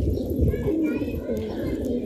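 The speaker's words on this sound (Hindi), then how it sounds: "ये एक सबज पटेस सा कबूतर फिर रहा है" Pigeons at a hobbyist's loft coo in low, steady murmurs with soft fluttering and shuffling, a dense continuous flock sound close by, with faint background voices.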